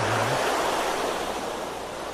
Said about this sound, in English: That water's loud